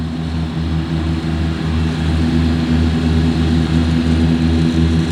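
A Parrot Bebop 2 drone flies over a park, its propellers giving off a steady, loud droning buzz that holds without a break throughout.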